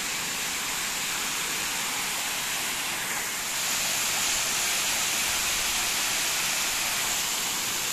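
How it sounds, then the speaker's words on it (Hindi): Large waterfall at Rock Garden, Chandigarh, giving a steady, dense roar of falling water that fills the whole clip evenly, close by and loud, with no voices. "ये आ गई बड़ी वाली वाटरफॉल"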